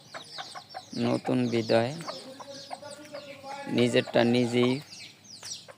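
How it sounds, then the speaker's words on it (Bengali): Native country hens on a small village farm cluck in several bursts, loud and close, while a person talks over them. "আরেকটা মুরগি, এটাও কয়েকটা ডিম পারছে"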